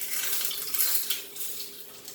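An egg chop sizzling in a frying pan as it is turned over, a soft, steady hiss with a faint scrape of a utensil, quiet and close.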